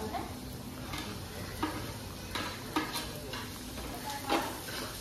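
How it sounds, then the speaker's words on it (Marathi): Ginger and green chili frying in a little hot oil in a pan, a steady close sizzle with occasional stirring clinks and scrapes, and faint talk underneath. "आता आपण अद्रक आणि मिरची टाकू."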